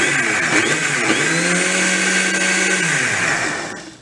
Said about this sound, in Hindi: इसको हमने बंद कर लेना है और मिक्सी अपनी चलानी है।